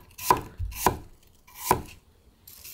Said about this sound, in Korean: 이렇게 썰면 돼요